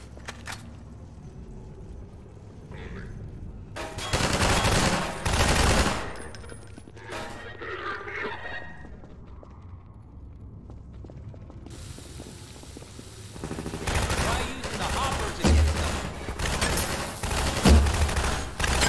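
Gunfire in the video game Half-Life 2 with RTX, dense bursts of rapid automatic shots alongside mechanical clicks and reload sounds, loud and close, with quieter gaps between the fights.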